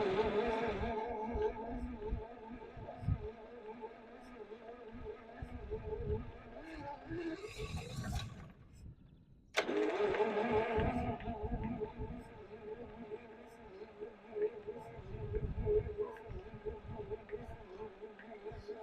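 Old John Deere 55 combine engine cranking and trying to start during restoration, a rough labored mechanical rumble with a brief stop midway before resuming, fairly close, with people talking.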